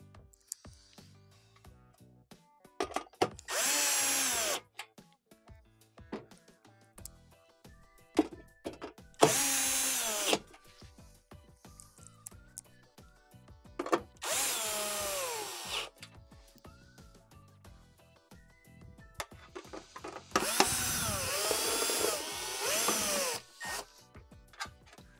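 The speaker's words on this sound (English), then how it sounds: "you're gonna go ahead and reinstall your 6 1/4-inch screws on the cover" A power drill drives screws into the pump cover of a Whirlpool Swash, sounding as four separate whirring bursts of a few seconds each, spaced apart with quiet handling noises between them, up close.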